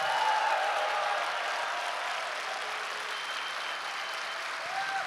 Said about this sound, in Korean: 뜨거운 박수로 격려해 주시면 감사하겠습니다